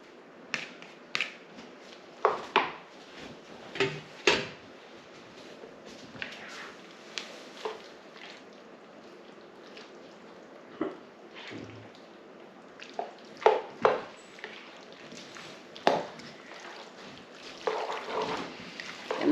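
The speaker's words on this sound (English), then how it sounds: "let's go ahead and mix the noodles in" Wet squishing and clicking as noodles are stirred into a pot of creamy French onion stroganoff, irregular sticky smacks and scrapes repeating close by, with no talk.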